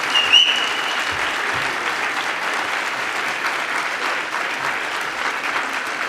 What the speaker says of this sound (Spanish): un poquito más de aplauso para Salvador